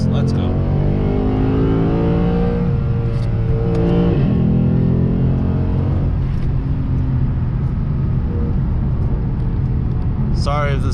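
A Lexus RC F's V8 engine drones loud and close while driving, its deep harmonic growl holding steady with a brief dip and recovery in revs partway through.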